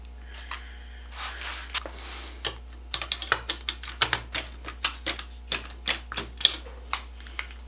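Ratchet wrench and socket turning a fastener on a Poulan Pro 295 chainsaw during teardown: a close, rapid series of sharp mechanical clicks in uneven bursts, with no talking.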